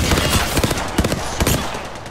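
Rapid automatic gunfire from an Apex Legends match, with loud, dense bursts of shots crackling close and continuous over about two seconds.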